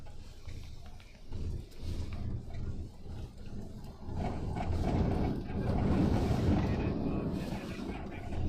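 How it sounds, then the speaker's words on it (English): Hurricane Milton's wind gusts roar across Florida in surging waves of rumbling noise. The gusts grow stronger and more constant in the second half and batter the microphone. "These gusts are just really dangerous on the back of our glass."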